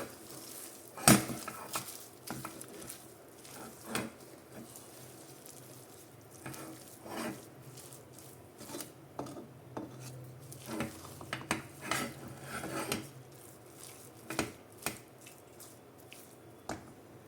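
Katte pongali being stirred and fried in ghee in a pan, with repeated soft clinks and scrapes of a spoon against metal and faint wet squishing, close and fairly quiet, no talking.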